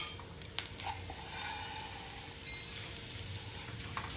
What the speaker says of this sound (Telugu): ఇందులో సేమియా వేయించుకోవాలి